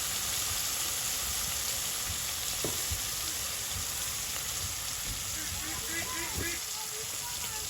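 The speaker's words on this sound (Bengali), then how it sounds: "পটল দিয়ে আর ইসা মাছ দিয়ে যেগুলো রান্না করবো ওগুলো ভালোভাবে ভাজা ভাজা করে নিতে হবে।" Pointed gourd and small shrimp fry in a pan during village-style cooking, giving a steady, close sizzle with soft crackles that runs throughout.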